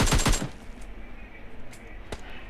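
Rapid bursts of automatic gunfire in the mobile shooter PUBG Mobile Lite come close and sharp at the start, finishing off a knocked enemy, followed by a few fainter isolated shots.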